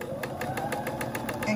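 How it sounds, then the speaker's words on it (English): A sewing machine stitching a purse frame coin purse runs in a fast, steady rhythmic patter of needle strokes, close and moderately loud. "and continue sewing"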